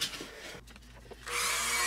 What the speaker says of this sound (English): I'm gonna take my Dremel tool here and drill the holes for it real quick too